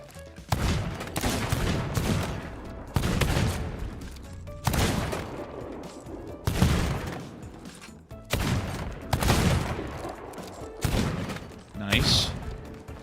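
Gunfire in the Sea of Thieves video game, with bursts of booming shots and thuds in repeated clusters across the stretch, mixed with loud in-game action and a voice talking at times.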